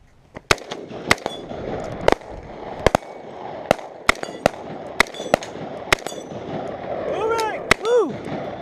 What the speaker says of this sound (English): Gun!